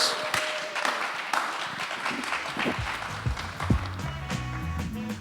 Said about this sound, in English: Let's give one more round of applause for the Fervent Four, Blair, Jacob, and Antonio.